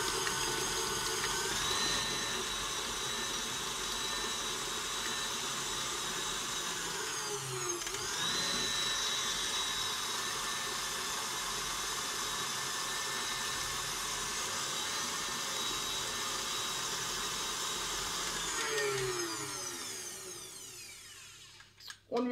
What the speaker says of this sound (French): Donc le blanchir, c'est le fouetter.